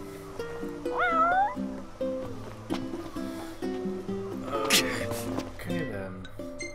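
A cat meows repeatedly in the Final Fantasy XV video game, with several rising, wavering calls over tonal game music. A voice talks throughout.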